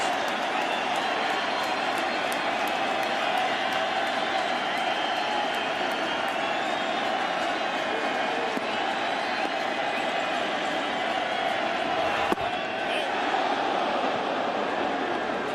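Crowd of spectators at a 2009 World Series baseball game between the Yankees and Phillies in Philadelphia, a steady loud roar with rising cheers that continues throughout, with a commentator's voice on top.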